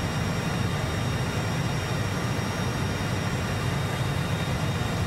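A DC Designs Harrier II jet hovering in Microsoft Flight Simulator 2020 gives a constant broadband engine roar and rushing whine, steady and unbroken throughout with no voices.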